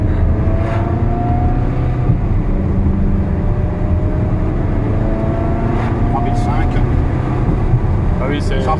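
A Ferrari 360 with a reprogrammed F1 gearbox hums at a steady close engine drone with a few rev blips as it downshifts, while people talk over it inside the car.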